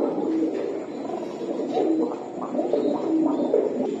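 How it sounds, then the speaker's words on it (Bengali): Hanuman breed pigeons cooing close by, a steady run of soft, low, rolling coos repeating through the whole stretch with no talk over them. "ভাই এটি হনুমান জাতের কবুতর।"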